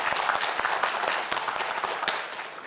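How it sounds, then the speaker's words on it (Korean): A studio audience on a televised quiz show breaks into steady, dense applause, close and sustained for a few seconds before easing slightly. "박수 한번 보내주세요."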